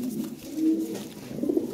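Pigeons at a seller's loft coo in low, soft, rolling phrases, fairly close, with a steady murmur of several birds and no voices over them.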